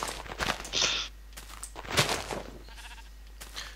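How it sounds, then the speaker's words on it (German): Sheep bleating in a Minecraft jungle, a few short game-sound bleats spread over a few seconds with soft footstep-like clicks between them. "Wieso jetzt eigentlich im Dschungel überall Schaf?"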